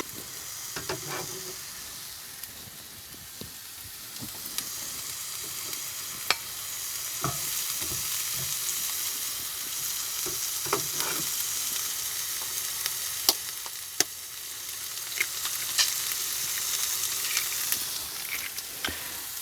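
Peppers and onions sizzle steadily in a pan, with occasional scrapes and clicks as they are tossed and stirred, and no voices over them.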